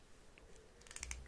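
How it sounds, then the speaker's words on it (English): Small crisp snips of scissors in an ASMR haircut roleplay, a few quick close clicks clustered near the end, very quiet and intimate with no talking. "Scissors."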